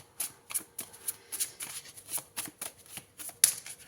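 Tarot cards being shuffled by hand, a close series of soft papery riffles and slaps in an uneven rhythm, ending with one sharper snap, no speech.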